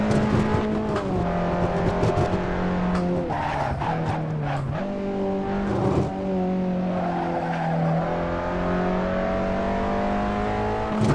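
A small Abarth 500 hatchback in the racing game Assetto Corsa on the Nordschleife circuit, its engine droning steadily and loud with rising and falling revs through gear changes, tires squealing and skidding in corners, no talk.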